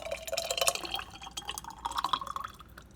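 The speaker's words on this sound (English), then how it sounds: "And I've got just an old jam jar here that I'm going to pour this into." Salad dressing poured from a container into an old glass jam jar, a close, quiet liquid trickle with small dripping splashes and light glass clinks throughout.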